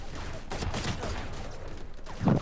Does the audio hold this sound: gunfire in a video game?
yes